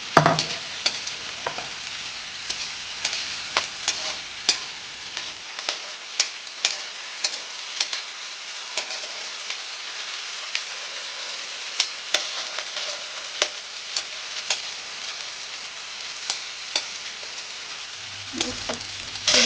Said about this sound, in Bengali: এই বড়িটা আমি এখন এখানে ভাজতে দিয়ে দিলাম।